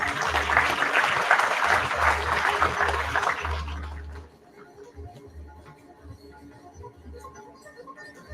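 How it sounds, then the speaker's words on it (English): A crowd bursts into loud, dense applause at a college guest session, sustained for about four seconds and then cutting off abruptly, leaving quiet room murmur. "Can we have a big round of applause for them?"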